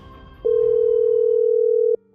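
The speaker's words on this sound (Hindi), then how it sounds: "अभय ने ये कॉल किया था रॉयल बैंक की मैनेजर कशिश को।" A steady electronic phone tone sounds alone for about a second and a half, loud and unbroken as a call is placed, starting and stopping abruptly over quiet background.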